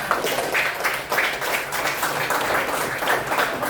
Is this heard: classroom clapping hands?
yes